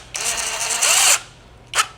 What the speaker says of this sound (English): you gotta own a holster company to drill your own hole